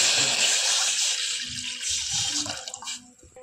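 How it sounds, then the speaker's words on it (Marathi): Water gushes into a cooking pot, a strong splashing pour that tapers off after about three seconds while a few soft clinks follow. "पातेल्यात आपण पाणी टाकून घेऊया।"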